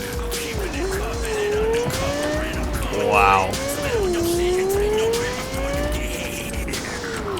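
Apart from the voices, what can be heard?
car driving with tire squeal in Cyberpunk 2077 video game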